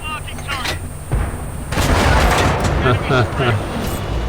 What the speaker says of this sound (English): There's some firing going off to in front of me.